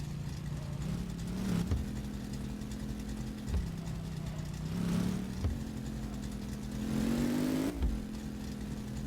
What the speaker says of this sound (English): I actually quite like the way this car drives.